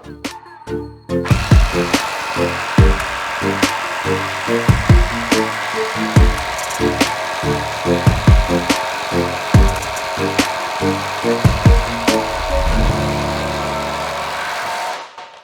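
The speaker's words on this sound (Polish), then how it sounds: "Zakrętarka Hishika 18V 160 Nm. Zobaczymy czy poradzi sobie z takimi wkrętami ciesielskimi." A Hishika 18V 160 Nm impact driver drives large carpentry screws into wood, loud and close, with rapid repeated hammering bursts in a steady rhythm for several seconds that then stop.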